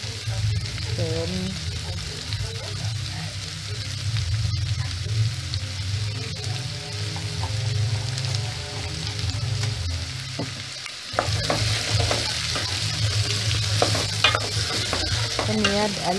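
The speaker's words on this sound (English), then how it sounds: "So go ahead and put the black beans and then stir again." Black beans stirred and fried in a pot for a Kenyan-style stew, a continuous sizzle with scraping stir sounds and a louder clattering stretch near the end, no talk.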